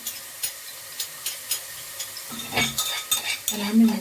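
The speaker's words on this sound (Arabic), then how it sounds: "هنا هنزل بالتومه" Garlic going into hot ghee for dried molokhia: light utensil clicks and taps at a steady pace, then a sudden rising sizzle as the garlic hits the fat, with stirring scrapes over the frying.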